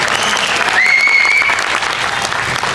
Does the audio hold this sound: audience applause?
yes